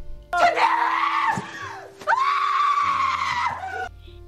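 A woman in a Korean thriller film lets out two long, piercing screams, the second following a brief gasp. Both are loud and close, over faint low music that lingers as the second scream dies away.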